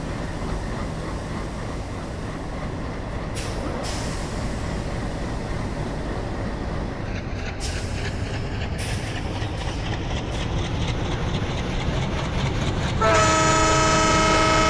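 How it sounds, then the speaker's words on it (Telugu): An oncoming train roars past in Train Simulator, an Indian railway game with a WDM3D-hauled Duronto Express: steady, loud rolling rumble with passing bursts, ending in a sustained horn blast. "ఇంకో ట్రైన్ అయితే వస్తుంది ఎదురుగా,"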